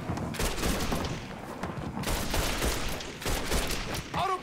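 Heavy gunfire rages in Mafia 3, with dense, loud volleys of shots coming in repeated surges and brief lulls between them.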